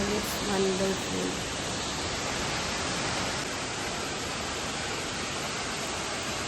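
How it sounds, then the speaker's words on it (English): Prut Falls, a 40-metre waterfall at Lyngksiar village near Sohra, roars as a steady, dense wash of noise throughout, with a brief voice near the start. "And you can hear the sound of the waterfall."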